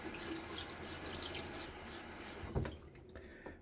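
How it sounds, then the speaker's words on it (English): Water trickles and splashes as it is poured into a shaving lather bowl, a close, continuous pour with a few drips and a small splash near the end. "I'm going to pour that into my lather bowl"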